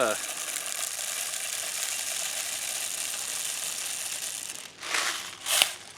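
G&G BBs pouring from their bottle into a G&G RK74-E airsoft drum magazine, a continuous fine ratcheting rattle, close and fairly quiet, ending in a couple of short louder clatters.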